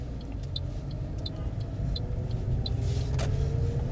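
A learner driver's car pulling forward and turning during a mock driving test, steady low engine rumble and road noise inside the cabin with faint ticking, growing slightly louder as it moves off.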